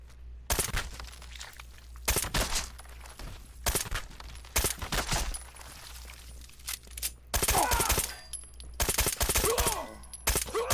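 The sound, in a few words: suppressed gun firing in video game Fallout 4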